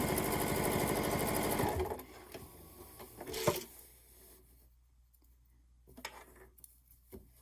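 A sewing machine re-stitching a small part of a fabric phone case hums in a fast, even rhythm for about two seconds, then stops, followed by scattered handling clicks and rustles.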